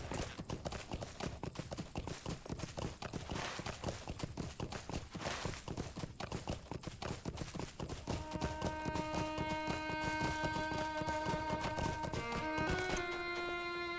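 Steady clip-clop of horse hooves from the game LOTRO runs throughout, loud and rhythmic, with a chiming game tone rising over the hoofbeats near the end.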